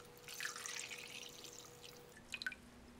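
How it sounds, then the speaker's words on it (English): Water poured into a cup holding white isotonic sports drink powder from a French military ration, a soft continuous liquid wash with a few light drips near the end, close and fairly quiet. "Fill it up with water."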